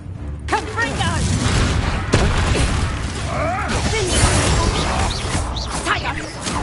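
Confringo explosive spell going off during combat in Hogwarts Legacy, loud blasts, crashes and shattering debris layered over battle noise, with voices shouting over the fight.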